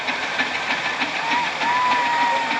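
McLaren steam haulage engine rolling past at a steam fair, a loud, close, rhythmic chuffing hiss with a faint steady whistle-like tone, with someone talking over it.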